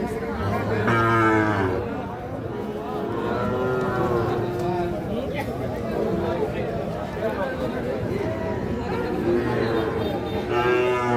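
Cattle lowing repeatedly at a busy livestock market (haat) in Bangladesh where Sahiwal bulls and calves are sold, several moos near and far over steady crowd chatter and people talking.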